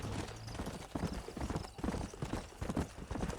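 Horse hooves clip-clop in a steady trotting rhythm in the video game Red Dead Redemption, close and continuous throughout.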